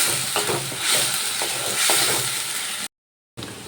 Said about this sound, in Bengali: এবার মশলাগুলো ভালোভাবে কষিয়ে নেব